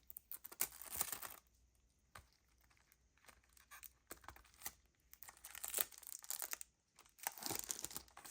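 Crinkling and tearing of plastic wrap as a Hinatazaka46 type B CD package is opened, close and quiet, in irregular bursts of rustling with short pauses between.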